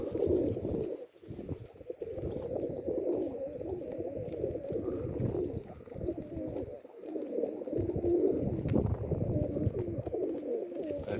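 Racing pigeons cooing steadily, a low murmuring chorus of several birds close by, with rustling and shuffling underneath throughout.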